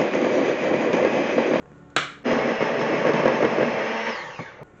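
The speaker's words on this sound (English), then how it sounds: "I'm going to add the eggs and beat that together" An electric mixer beats eggs into banana nut French toast batter, a loud steady whirring drone that cuts out briefly, restarts with a sharp surge, then continues before winding down at the end.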